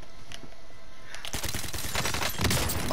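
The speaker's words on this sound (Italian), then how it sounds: "Mi sento spari, però." Rapid gunfire fills a video game match, starting as a steady crackle and swelling into dense, loud volleys near the end, with no talking over it.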